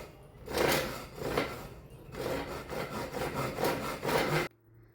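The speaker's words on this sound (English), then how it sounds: "We're not done with the sawing just yet." A hand saw cuts a wooden board for a stool in steady, close back-and-forth strokes, each rasping pass rising and falling in a regular rhythm before stopping abruptly near the end.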